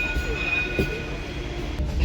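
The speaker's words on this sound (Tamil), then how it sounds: "லைட் ரயிலில் போகிறோம்." A Sydney light rail tram rolls along with a steady low rumble and a thin sustained high whine, a brief clunk midway, carried throughout without any talk.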